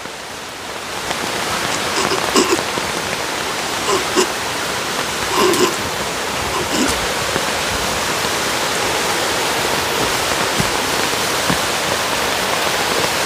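Constant rushing water from a forest stream fills the scene, loud and close, a dense steady wash of noise with occasional faint splashes.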